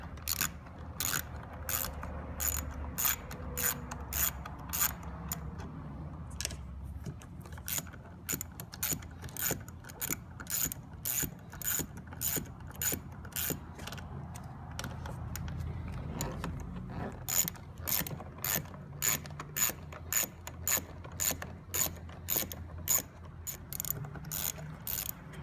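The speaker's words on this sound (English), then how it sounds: "we will take our torque wrench with our 11mm top and start unscrewing" A ratcheting wrench with an 11mm socket loosens the passenger-side mirror bolts on a 2008–2009 Ford Taurus X, producing rapid, steady metallic clicking bursts that continue almost without break, close and clear.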